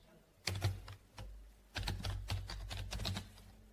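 Rapid bursts of clattering keystrokes on a computer keyboard, two clusters of quick typing separated by a brief pause, close and fairly quiet with no voices.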